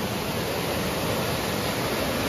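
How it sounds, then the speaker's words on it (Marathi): Small waterfalls at Tamhini Ghat pour out a constant, even wash of broadband water noise, close and unbroken throughout, with no one talking. "आणि इथे लहान लहान वॉटरफॉल्स होते"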